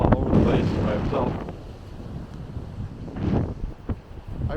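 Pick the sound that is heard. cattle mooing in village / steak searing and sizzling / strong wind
strong wind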